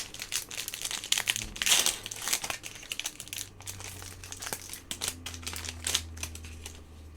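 A Double Masters 2022 Magic: The Gathering booster pack wrapper is torn and crinkled open, loud close foil crackling in busy bursts with a low hum beneath.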